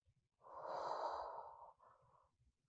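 A single soft, close exhale lasting just over a second during a foam roller stretch, with a faint trailing breath afterward, quiet and alone.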